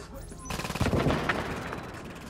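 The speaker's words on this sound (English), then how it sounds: "Who the fuck is shooting?" Gunfire in The Division video game, arriving after a short quiet moment as a burst of rapid automatic shots and heavier booms that then settle into a sustained, fairly loud barrage.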